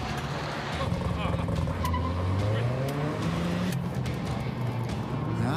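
A delivery van's engine accelerates on a race track, its rising roar climbing in pitch through the gears, with excited commentary over it.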